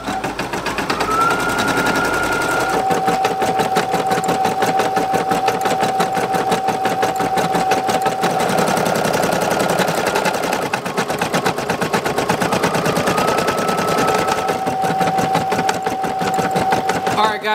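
An embroidery machine stitches out a DIY patch with a loud, fast, rattling needle hammer that runs unbroken throughout, while a couple of steady electronic tones hum faintly underneath.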